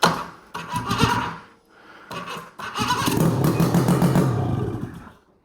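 A Ski-Doo XP snowmobile engine with a newly fitted electric starter and no exhaust cranks, catches and roars, loud and close, for several seconds, with short bursts of revving before it cuts off.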